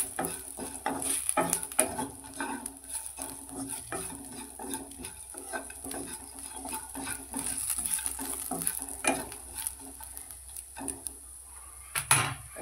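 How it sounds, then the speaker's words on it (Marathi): Roasted coconut frying with cumin in a pan as a spoon stirs it, giving a steady sizzle with repeated scraping and clinking strokes throughout, close and alone without talk. "थोडं फ्राय झाले, त्याच्यात भाजलेलं खोबरं टाकू आणि सगळ्यांना मिक्स करूया."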